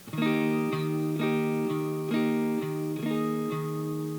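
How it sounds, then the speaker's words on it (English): A suspended guitar chord struck repeatedly, about eight times at a steady pulse, each ringing briefly with a bright quality; close and alone. "to mimic what the keyboard is doing, we need to make a suspended chord"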